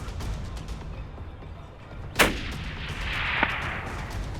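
A single hunting rifle shot fired at a kudu in Africa cracks loud and close in open bush, followed by a fainter sharp report about a second later.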